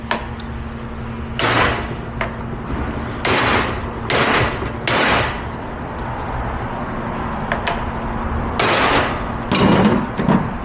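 A hammer drives a U-joint into the rear driveline yoke of a 2006 Nissan Pathfinder on a workbench, with several loud, sharp metallic blows in uneven bursts separated by short pauses, close up and without talk.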